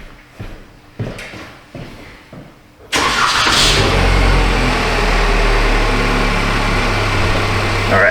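A car engine cranks and catches at about three seconds, then settles into a steady, loud idle close by, after a few quiet knocks and clicks.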